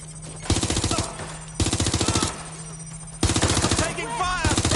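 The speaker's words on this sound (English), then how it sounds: "Taking fire!" Automatic weapons fire in Watch Dogs: Legion on PS5, several loud, rapid bursts of machine-gun shots separated by brief pauses, with game sound effects in between.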